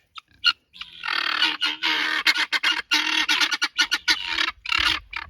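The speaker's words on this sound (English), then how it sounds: "Oh my goodness, Mr. and Mrs. Guinea Fowl. Oh, I'm going to miss that sound so much." Guinea fowl calling nearby in a harsh, rapid, rhythmic chatter, with repeated scratchy bursts over several seconds.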